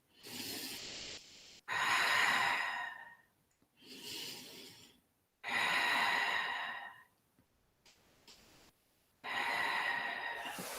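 Slow, close breathing during a yoga stretch in a studio class: long, airy inhales and exhales follow one another with short quiet gaps between them, and no talking.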